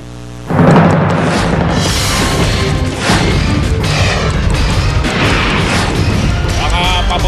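Firecrackers explode in rapid, overlapping bursts at a fireworks market in Bocaue, Bulacan, a loud, dense crackle that starts abruptly and continues without pause.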